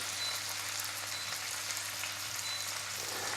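Brussels sprouts frying in a wide frying pan on turned-up heat, a steady close hiss and crackle of sizzling fat that runs unbroken throughout with a low hum beneath.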